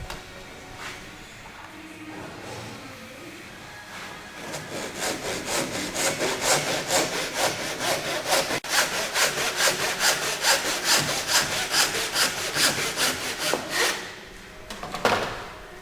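A hand saw cuts a wooden skirting board for a scribe joint, and after a few tentative scrapes the strokes settle into a steady back-and-forth rasping rhythm, close and clear, before ending with a final knock.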